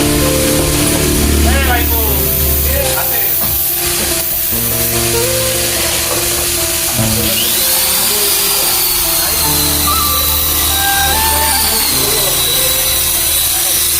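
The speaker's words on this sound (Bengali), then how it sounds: "ড্রিল মেশিন দিয়ে ভিতরে ভিতর থেকে লিকটা ছাড়াই হচ্ছে" A power drill whines and grinds in bursts into motorcycle metal to clear a leak, loud and close, with a shrill rising squeal partway through, while people talk over it.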